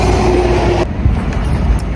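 A train rumbling past at close range, a loud broadband roar with a steady tone that cuts off abruptly partway through, leaving lower rail rumble behind.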